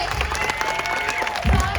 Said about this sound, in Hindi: प्लीज इनकी मेहनत के आगे आपकी तालियां बहुत कम पड़ रही है